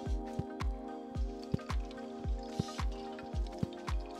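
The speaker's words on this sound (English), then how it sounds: "I just poke a hole and I walk around and squirt it in." Pool oxidizer squirted from a bottle into pool water in a quick repeated series of soft squishy spurts and drips, about a dozen in four seconds, close and quiet over a faint tonal background.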